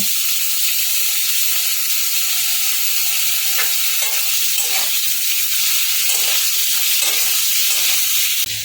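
Fried potato pieces, drumsticks and eggplant being stirred in a hot pan for a light fish curry, giving a loud, continuous sizzle with soft repeated scrapes of the spatula.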